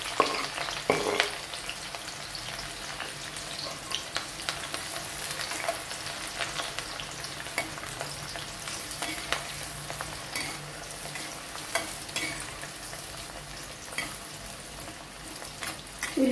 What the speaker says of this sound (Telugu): ఇప్పుడు ముందుగా కట్ చేసి ఉంచుకున్న ఉల్లిపాయ వేస్తున్నాను।